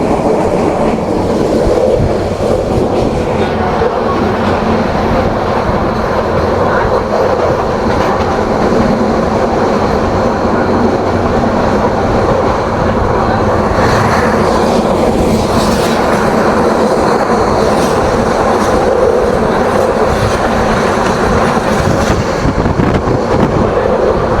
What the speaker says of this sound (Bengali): সামনে মিটমিট আলোতে একটি ট্রেন দেখা যাচ্ছে আশা করছি এটি সুবর্ণ এক্সপ্রেস হবে